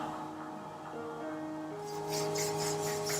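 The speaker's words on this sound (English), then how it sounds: "Begin rubbing palms together, generating some warmth between the hands." Palms rubbing together during a hatha yoga cool-down, a soft close swishing friction that grows slightly louder and brighter toward the end, over faint tonal background music.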